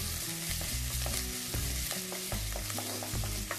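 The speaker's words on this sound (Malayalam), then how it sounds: "അതിൻ്റെ അകത്തോട്ട് ആ വെളുത്തുള്ളി ഇട്ട് കൊടുക്കാം. ആ ഇഞ്ചി ഇട്ട് ഒന്ന് മൂപ്പിച്ചെടുക്കാം." Garlic and ginger fry in hot oil in a kadai, a steady close sizzle broken by repeated scraping stirs of a spoon against the pan.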